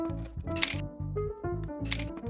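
Cartoon-style camera shutter clicks with a bright flash zing as a selfie is snapped, two sharp broadband bursts about a second apart over a steady low musical background.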